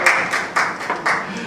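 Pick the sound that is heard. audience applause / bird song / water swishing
audience applause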